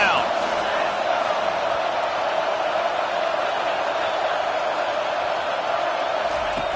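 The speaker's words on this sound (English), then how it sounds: "Decibels rising as the crowd gets behind this defense on third down." A stadium crowd in the college football game NCAA Football 25 roars on third down, a dense, constant wall of cheering at an even level throughout, with a commentator's voice over it.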